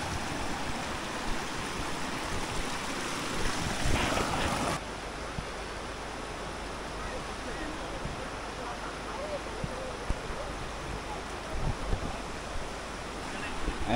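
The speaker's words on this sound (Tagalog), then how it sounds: "so ito na siguro yung running water na malinis talaga" Clean, very cold running water at the Coto Mines, a steady broadband rush of flowing water with wind buffeting the microphone, continuous and fairly close throughout.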